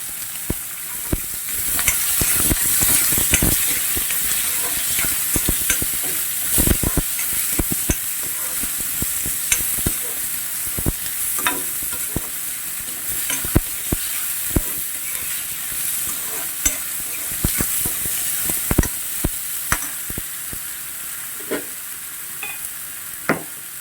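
Garlic, green chillies and onion fry in a hot pan, a steady bright sizzle with scattered sharp spatters and the scrape of stirring, close and continuous with no talking.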